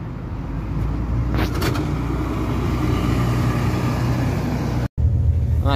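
Inside a moving X63 bus heading to Bradford from Huddersfield, a steady engine drone and road rumble fill the cabin at a constant level, broken by a brief dropout near the end.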